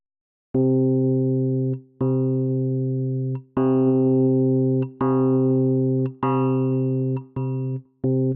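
Virtual Rhodes electric piano chords, about eight sustained stabs with warm bell-like tones, each ringing briefly before the next, played alone without voices.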